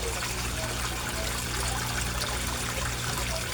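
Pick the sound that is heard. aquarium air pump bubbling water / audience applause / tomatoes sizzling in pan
aquarium air pump bubbling water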